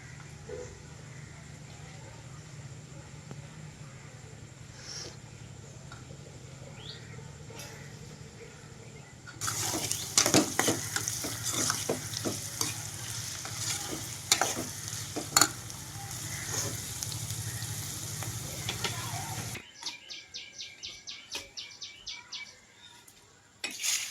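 Chopped tomatoes hit a hot pan and start frying: a loud burst of sizzling with scraping and clinking stirring strokes, then it cuts to quieter, rhythmic scraping of the spatula against the pan.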